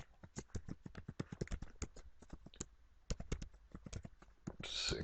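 Rapid, irregular keyboard typing, close and clear, a steady patter of clicks with brief pauses.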